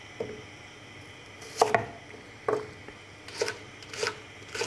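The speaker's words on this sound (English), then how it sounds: "I think I'm going to cut them lengthways first" Knife chops through thick food lengthways into chunks on a board, a series of firm, separate thuds and taps spaced irregularly, close and clear with no talk.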